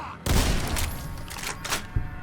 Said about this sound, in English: He don't really care, so I shot him dead.